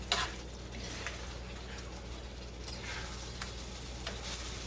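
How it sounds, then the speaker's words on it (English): Ground beef and French dressing are stirred in a pan, giving a soft, continuous sizzle with occasional scraping strokes and light clicks against the pan. "Keep stirring it because it will stick to the bottom of your pan"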